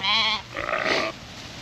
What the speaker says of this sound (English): How long does it take that ram to get across the fence?